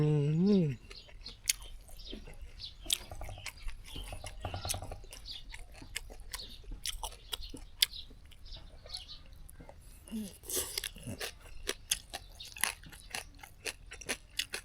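Close, crunchy chewing of crispy pork in a spicy Thai basil stir-fry, with repeated sharp bites and mouth sounds scattered irregularly over a quiet background, plus a brief vocal sound at the start.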